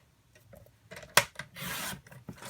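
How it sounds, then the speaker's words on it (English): A Stampin' Up paper trimmer slices a sheet of basic black cardstock, giving one sharp click followed by a steady, close rasping glide of the blade lasting about half a second, with faint handling rustles around it. "So let's cut those two pieces real quick."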